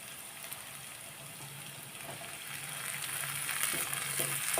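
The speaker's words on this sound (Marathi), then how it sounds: "आता हे आपण चांगलं परतून घेऊया" Chopped onions and small tomatoes sautéing in a pan for egg curry, a soft steady frying hiss that swells slightly louder toward the end, with faint stirring taps and no speech.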